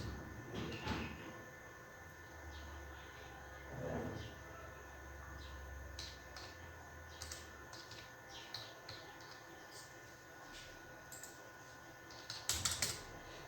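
Light, irregular keystrokes on a laptop keyboard while an income tax return form is filled in, quiet and scattered over a low background hum, with a few louder bursts of taps near the end.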